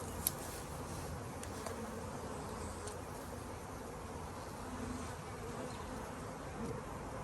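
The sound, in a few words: honeybees buzzing during hive install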